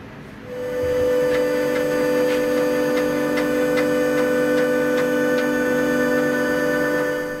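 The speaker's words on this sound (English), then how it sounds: "I've always had this clicking noise while moving along the x-axis" A CNC machine hums steadily with a tonal whine while moving along its x-axis, faint, evenly spaced clicks ticking along at a regular rhythm, close by and without talk.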